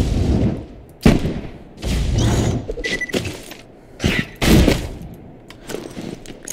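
Borderlands 2 gameplay gunfire in a Mechromancer firefight, bursts of loud sharp shots and booming blasts in clusters with short pauses between, close and punchy.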